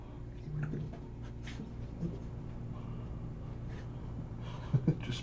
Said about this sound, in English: Look at this crazy dog.